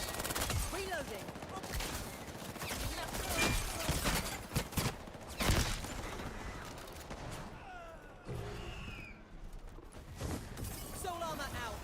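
Video game gunfire rattles in rapid bursts and single shots, punctuated by booms and impacts, mixed with game voice callouts and effects at moderate loudness.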